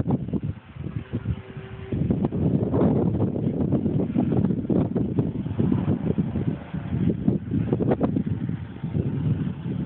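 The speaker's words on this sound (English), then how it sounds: "you can hear the wind on the video" Wind buffeting a microphone outdoors on a windy day while a model plane flies, a loud, continuous low rumble with gusty swells throughout and no clear voices.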